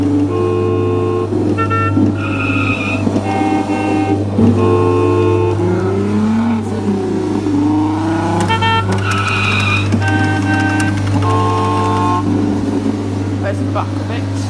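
Loud motor of a Jolly Roger Spydero coin-operated kiddie ride, a steady low hum running throughout with electronic ride music and chirpy tones layered on top.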